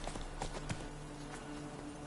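Hooves of a horse in The Witcher 3 clop in a quick galloping rhythm, soft and steady under a dense wash of game ambience.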